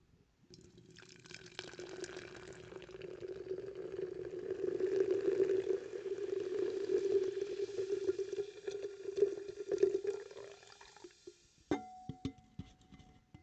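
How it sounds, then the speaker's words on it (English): Mountain Dew Trolli cherry lemon soda pouring into a glass, a steady fizzing stream that builds over several seconds and ends with a few clinks and drips. "So here is going to be the pour of the Mountain Dew Trolli."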